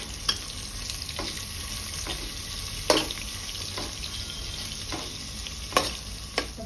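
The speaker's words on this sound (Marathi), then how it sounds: "कांदा गुलाबी होईपर्यंत परतून घेऊया." Onion sautéing in a pan with a little garlic for a one-pot veg pulao, a steady hiss of frying with a few sharp spoon scrapes and clinks on the pan, close and alone.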